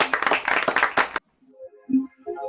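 A music class group of a Christian music college clapping together, a brisk, dense burst of hand claps lasting about a second that stops abruptly, followed by faint sung or spoken tones.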